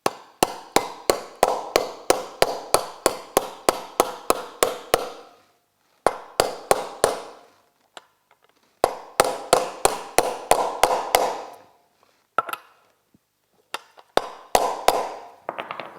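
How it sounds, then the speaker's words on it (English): Sharp metallic hammer taps drive an ATV wheel bearing into its hub through a socket, coming in quick rhythmic bursts of a dozen or so strikes separated by short pauses, loud and close with no talking. "I didn't have to hit it hard, so I'm not damaging the socket, but I put it into where I want it."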